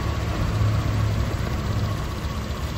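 Honda Vario 125 scooter engine idling steadily with a low, even hum, close and constant throughout, no voices.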